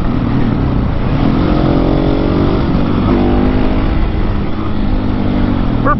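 An off-road motorcycle in fourth gear pulls a power wheelie up a small whoop, a loud engine drone rising steadily in pitch over heavy wind buffeting, close and continuous.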